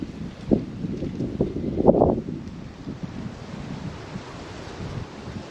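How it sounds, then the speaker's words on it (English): Steady wind buffeting the microphone outdoors, with a low rumbling roar and a few stronger gusts near the start. "It's a little windy"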